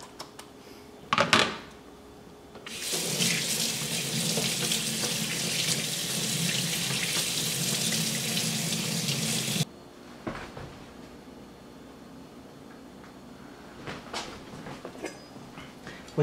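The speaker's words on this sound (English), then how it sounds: "And we'll just rinse this under some cold water." Cold tap water runs steadily over a piece of cured salmon in a kitchen sink for about seven seconds, a loud continuous splashing rush, framed by a few clunks and handling noises before and after.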